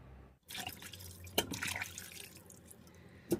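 Shaki, meat and boneless cow foot are washed in water for Nigerian banga soup, with water splashing and trickling in a bowl and two sharper knocks, quiet and close.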